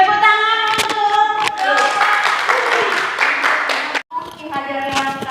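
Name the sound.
audience clapping hands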